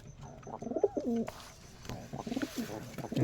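Giribaz pigeons cooing up close in soft, throaty, rolling calls, repeated several times with some rustling between.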